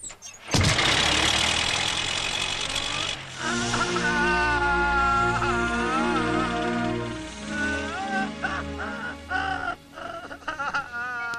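A car engine turning over and running as the vehicle is moved back and turned in a Tamil film scene, a rough close mechanical rumble throughout, with melodic music and sound effects layered over it.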